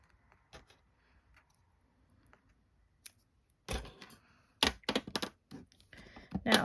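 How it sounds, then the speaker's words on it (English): Scissors snip a small piece of quilting tape for a quilt block, a few sharp close cuts in quick succession after a quiet stretch with faint handling noises. "Let me get a little piece. Just cut a little bit off."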